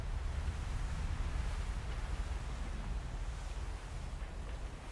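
Gentle, calm ocean water in the naval video game Abandon Ship, a steady soft wash of low waves with a faint windy hiss, continuous and even throughout with no voices.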